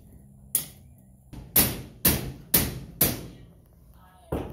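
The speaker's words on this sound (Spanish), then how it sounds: "Ahí lo están martillando." Hammer blows fitting a new window into place during house construction, about six sharp, loud thuds at uneven intervals with quiet gaps between them.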